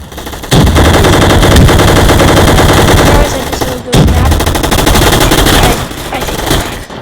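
An M60 machine gun in a video game firing long, loud, rapid bursts close up, with a short pause in the middle and faint talk underneath.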